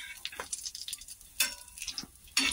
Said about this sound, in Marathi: हे बघा मस्त असं याला खालून वरून पलटी करून तळून घ्यायचं आपल्याला